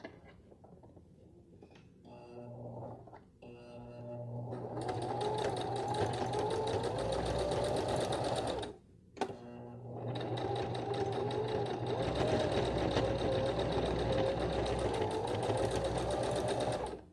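Domestic sewing machine tacking down a seam on a tank top romper, a fast close whirring stitch run that starts and stops briefly, then resumes steadily.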